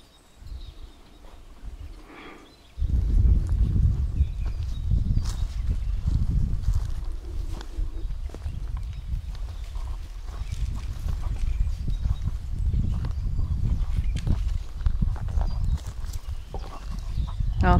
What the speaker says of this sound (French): c'est-à-dire des chevaux, vraiment, des animaux qui font partie de la vie sauvage